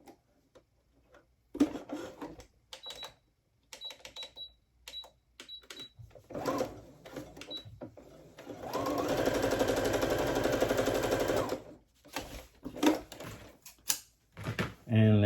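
A sewing machine stitching plaid fabric pants, with short bursts of rapid ticking among handling noises, then a sustained run of steady whirring stitching lasting a few seconds, near and clear, with a person talking at times.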